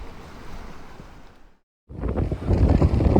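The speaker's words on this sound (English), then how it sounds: "Wind is pumping." Strong wind buffeting a microphone on the False Bay coast, a loud roaring rush that cuts out briefly mid-way, then returns even louder and gustier.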